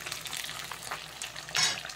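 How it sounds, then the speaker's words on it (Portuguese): Pork ribs fry in a pan after water is added, giving a steady crackling sizzle with brighter bursts of spattering and a soft clink of cookware near the end. "então agora ela necessita de água para continuar a fritura"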